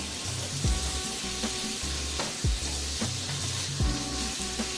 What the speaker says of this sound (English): I'm going to give that a stir to blend all those flavors together.